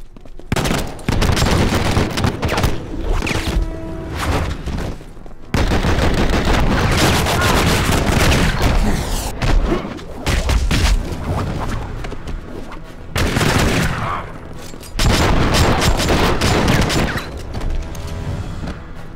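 Loud, sustained machine-gun bursts and heavy booms from the video game Enter The Matrix fill the scene, broken by brief pauses, with some in-game voice mixed under the shooting.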